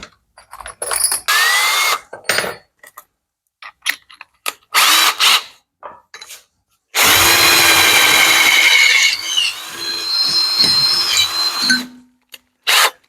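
A power drill opens up a hole in sheet metal in short whirring bursts, then a long loud grinding run as the bit bites through, close and alone.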